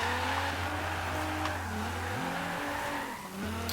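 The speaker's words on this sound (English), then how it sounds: "I'm just using the handbrake every now and again, a little dab on the handbrake just to help get the car around" A car drifting with the handbrake in Forza Horizon 3, a loud engine drone shifting pitch as it revs and drops, overlaid with tire squeal through the slide.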